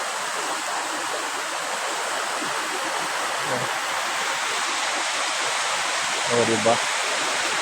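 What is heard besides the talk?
river water flowing behind a house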